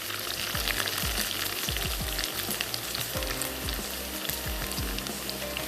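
Onions frying in a pan for chicken samosa filling, with boiled mutton going in, give a steady close sizzle. Repeated low clunks and stirring knocks sound through it, and nobody speaks.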